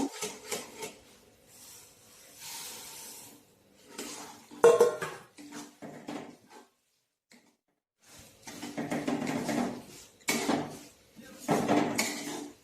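Roasted sesame seeds being stirred into melted jaggery in a pan for crunchy til ladoos, bursts of gritty scraping and rubbing against the metal separated by short quiet gaps, close and moderately loud.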